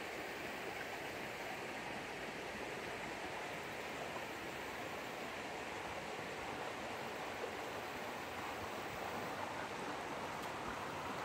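Creek water rushing over a rock bottom near falls makes a steady, broad, close hiss of rippling flow that stays even throughout, with no voices.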